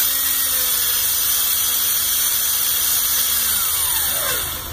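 A drill bit whines steadily while reaming out a hole in a part for assembling a Geeetech Prusa i3 Pro B 3D printer, the motor pitch holding then sliding down at the end, loud and close.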